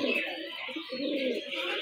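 Soft, low cooing from an old pigeon rolls on continuously, close by, a murmuring throaty call with slight swells and no clear pauses.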